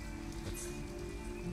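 Steady rain falls on surfaces in the video game Detroit: Become Human, a dense continuous patter at low volume with no voices.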